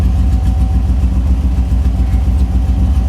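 A 1961 Sunbeam Alpine II engine runs close by at a steady idle, with a low, even throb and no voices.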